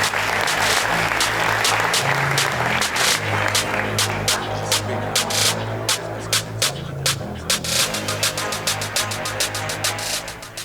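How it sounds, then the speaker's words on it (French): An audience applauds to welcome a student team to the stage at a science competition. A dense wash of clapping over a low mains hum thins toward the end into distinct, separate hand claps. "Vous pouvez les applaudir,"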